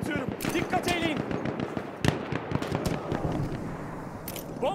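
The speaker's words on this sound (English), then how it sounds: "Bomba atıyorum." Thrown bomb exploding in the Battlefield 1 video game: a sharp loud blast stands out amid dense crackling gunfire and bursts, with someone talking in between.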